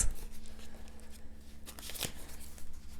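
Tarot cards from several decks are handled and shuffled up close, a soft papery riffling and sliding that swells briefly near the end, with no talking.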